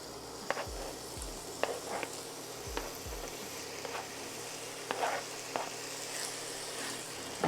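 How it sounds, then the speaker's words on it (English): Food frying in a pan gives off a faint, steady sizzle, broken by scattered small clicks and a few low thumps. "I hear sizzles"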